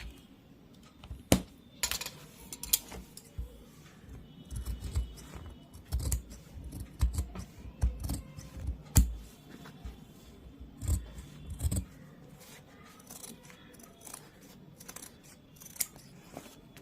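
Scissors snip repeatedly through fabric while a kameez collar is cut out, with close, uneven bursts of crisp cutting strokes and small rustles.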